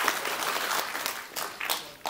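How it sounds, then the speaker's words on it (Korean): A hall audience at a launch ceremony for a national signature campaign opposing a nuclear phase-out gives brief, moderately loud applause, a steady patter of many hands with a few sharper claps near the end. "다시 한번 박수 부탁드리겠습니다"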